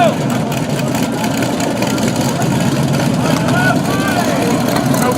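Drag racing cars at KD Dragway, a steady loud engine rumble with idling and revving tones filling the air throughout, outdoor track noise, no distinct speech.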